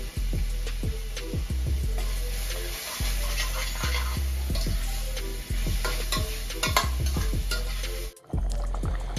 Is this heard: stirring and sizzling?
yes